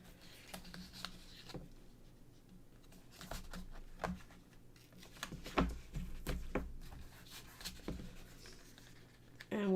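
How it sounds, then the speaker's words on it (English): Soft scratchy rubbing and brief crisp taps as tape is pressed inside a folded 5x7 card, close and intermittent, with a few louder handling bumps toward the end. "we're going to take tape and we're going to tape it in the inside, just like this"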